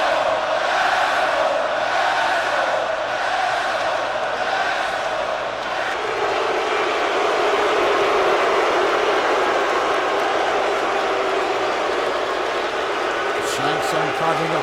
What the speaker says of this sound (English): Crowd in Houston telling Shang Tsung exactly what they think of him.